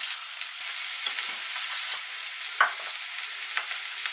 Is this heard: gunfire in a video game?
no